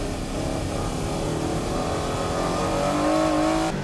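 Race cars, among them an FD on Bridgestone tires, accelerate hard on a mountain pass near a hairpin, a loud rising engine roar with climbing pitch that cuts off abruptly at the end.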